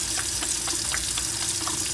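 Warm water runs steadily from a tap as hands are washed with soap and rubbed together, a continuous close splashing with faint wet rubbing sounds and no talk.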